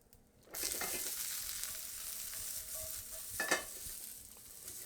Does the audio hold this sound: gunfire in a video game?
no